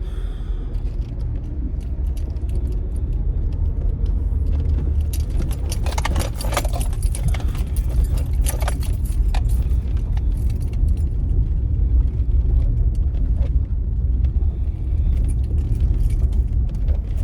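A car rolls slowly across a gravel parking lot, a steady low engine rumble carrying throughout with crunching, jangling rattles bunching up in the middle stretch.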